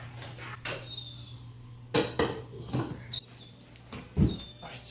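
Sweet rice with sugar, milk and vanilla extract is stirred by hand, producing close, sparse scrapes and light clinks of a utensil against the dish, with quiet gaps between strokes.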